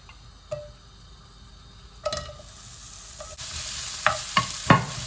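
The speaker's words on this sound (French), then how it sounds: "Une fois que c'est chaud, je vais mettre mes oignons." Onions are dropped into hot oil for a chicken and vegetable dish: a few sharp clicks and knocks at first, then a bright, steady sizzle that starts suddenly and keeps going, with a couple of utensil taps.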